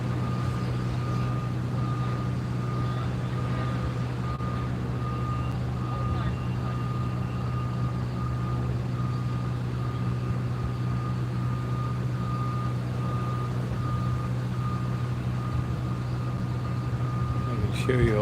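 A gravel truck reversing at a construction site sounds a steady, repeating backup beeper over a constant low diesel drone, heard from some distance, with faint voices underneath.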